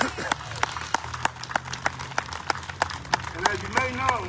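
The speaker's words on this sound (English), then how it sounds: "So let's give a round of applause for Ms." A crowd claps at an outdoor Juneteenth celebration for Ms. Opal Lee, sharp individual claps standing out over a low murmur, with someone speaking briefly near the end.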